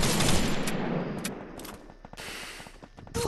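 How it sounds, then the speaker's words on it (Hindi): Gunfire rattles in Garena Free Fire Max: dense, loud bursts of rapid shots in the first seconds, then scattered sharper cracks and a final loud volley. "यहाँ पर भी मुझे फायरिंग की आवाज़ें आ रही हैं"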